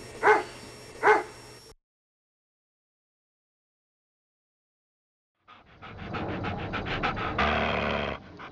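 Dogs in prison kennels give two short, sharp barks close by, then fall silent for several seconds. After the gap comes a longer stretch of rapid panting and restless noise.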